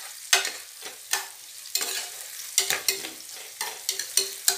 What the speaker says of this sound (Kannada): ಚೆನ್ನಾಗಿ ಮಿಕ್ಸ್ ಮಾಡ್ಕೊಳ್ಳಿ ನೋಡಿ ಫ್ರೆಂಡ್ಸ್ ಈರುಳ್ಳಿ ಚೆನ್ನಾಗಿ ಬೆಂದಿದೆ